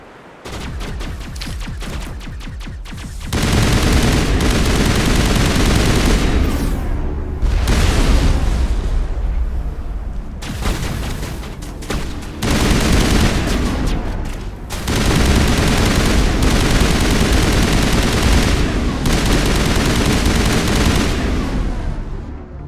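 Turret gunfire from the Mass Effect 1 Legendary Edition game: loud, sustained bursts of rapid fire and booming blasts in several long volleys separated by brief lulls, with no talking.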